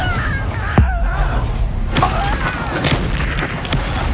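Loud booming blasts of the Confringo fire spell in Hogwarts Legacy combat, sharp impacts recurring roughly every second over a thick low rumble, with voices briefly shouting over the fight.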